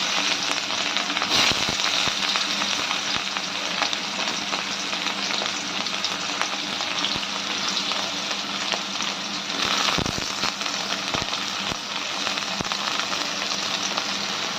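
Carrot strips stir-frying in a hot wok for vegetable chowmein give a loud, continuous sizzle with crackling pops and occasional stirring clatter, steady throughout with no talk.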